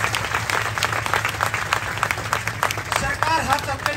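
Audience applause at a Hindi-language rally in Sonipat, a steady dense clapping wash that fills the clip loudly, with a voice briefly heard near the end.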